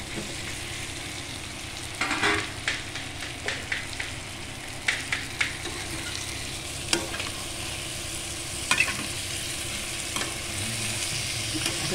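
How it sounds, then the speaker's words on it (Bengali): Cauliflower pieces fry and sizzle steadily in a pan, with repeated scraping and stirring clicks from a utensil, close and continuous throughout. "ভাজা হয়ে গেছে, এবার ফুলকপিটাও দিয়ে দেবো ভাজাটা।"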